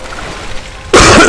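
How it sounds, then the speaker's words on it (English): A single loud, close cough bursts out near the end, after a second of low, quiet room tone. "Still got my cough, by the way."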